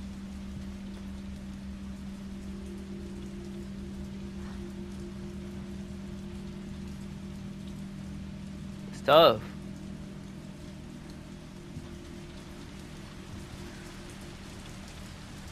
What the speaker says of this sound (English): Raining outside? I like when it rains.